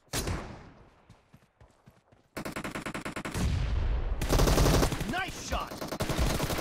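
Gunfire in the PUBG Mobile team deathmatch mode, with rapid automatic bursts that grow into loud continuous firing, with scattered single shots, close and dense.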